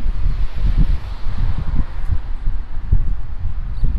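Strong wind outdoors buffets the microphone in a steady, loud low rumble with gusty surges, heard alone at a lot where supercars are parked.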